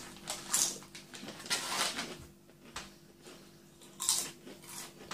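Walkers sandwich flavour crisps, two months out of date, being eaten: quiet, close crunches and bites come in a few separate bursts.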